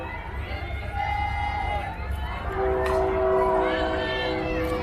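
Freight train rolling past a college softball field, its horn sounding in long steady blasts over continuous rumble, loud and close, with crowd noise and an announcer's voice mixed underneath.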